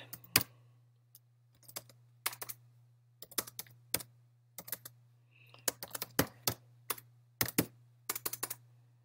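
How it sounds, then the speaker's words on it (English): Close typing on a computer keyboard comes in irregular bursts of crisp key clicks separated by short pauses, with a steady low electrical hum underneath and no talking. "you get to see my appalling typing here"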